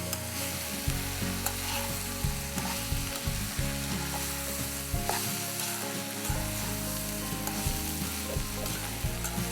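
Vegetables for vermicelli biryani fry in oil in a pan, giving a continuous close sizzle with occasional soft stirring scrapes and no talking.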